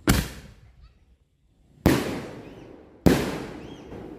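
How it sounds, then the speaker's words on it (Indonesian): Three loud blasts from a ball-launcher firecracker go off in sequence, each a sharp bang with a crackling decay, the last two coming close together. "selanjutnya kita nyalakan mercon bola launcher"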